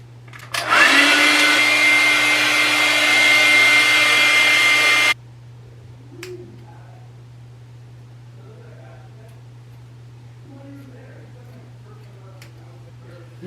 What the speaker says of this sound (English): What kind of whack ass fucking blow dryer is this?